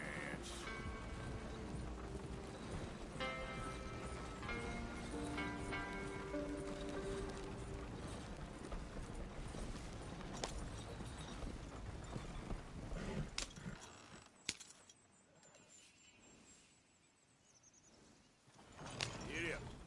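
Horse hooves clip-clop at a steady gait in the Red Dead Redemption video game, heard faintly under music and character dialogue before fading toward the end.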